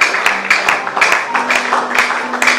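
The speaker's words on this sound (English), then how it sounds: "Please clap for mommy as she comes around. So we clap together." A church congregation claps together in rhythm during a praise service, steady loud group clapping in a regular beat with a sustained tone from music underneath.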